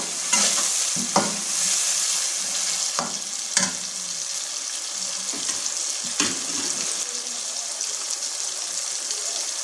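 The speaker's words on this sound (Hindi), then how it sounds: "हमने इसके अंदर डालना है टमाटर, ये हमने इस तरीके से काट लिए थे। और इनको मिक्स कर लेंगे।" Chopped tomatoes go into sizzling okra masala cooking dhaba style, followed by several sharp spoon scrapes and knocks against the pan over a constant close frying hiss.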